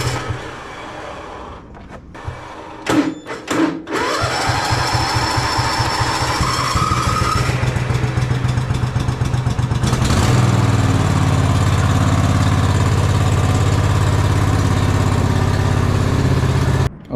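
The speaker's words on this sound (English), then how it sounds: "Let's turn it on and see if it runs." A cheap zero-turn lawn mower engine is choked, cranks a few times, catches and settles into a loud, steady running drone close by, with no talking.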